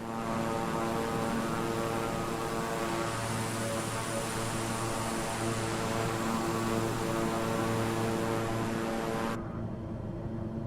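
Beechcraft propeller plane engine in Microsoft Flight Simulator 2024, a loud, steady droning hum with even tonal layers that holds throughout and then shifts slightly near the end, heard alone without talk.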